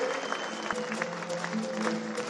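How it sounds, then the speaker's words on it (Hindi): Applause from an audience at an Indian ceremony honouring guests, a dense steady clatter of hands with a faint tonal hum underneath and no clear speech. "अपने इन सब भाइयों के लिए जोरदार तालियां बजाए।"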